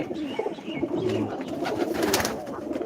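Pigeons coo in low murmurs against a steady background hum, the calls overlapping and continuous throughout.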